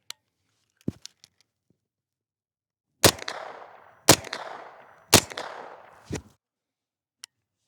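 A suppressed rifle firing 147-grain rounds: four sharp, fairly loud reports about a second apart, each with a short rolling echo, plus a few fainter isolated clicks and pops before and after.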